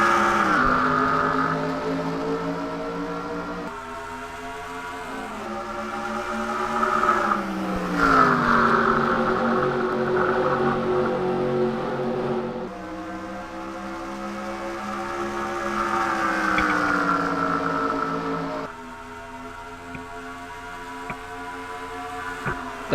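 Stock cars racing at Homestead in an NHL-series racing video game, a pack of engines droning and rising and falling in pitch as they pass, steady and continuous with no talk.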